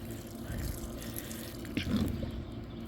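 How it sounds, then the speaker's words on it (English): Water spills steadily from a hose or can onto garden plants, a soft continuous splashing and trickling with a slightly louder burst near the end, close and fairly quiet. "So what I do is I water everything"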